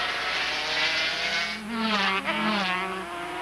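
500cc Grand Prix motorcycles race at the 1992 Brazilian Grand Prix, their high, strained engines wailing in a dense layered howl that rises as bikes pass, continuous and fairly loud.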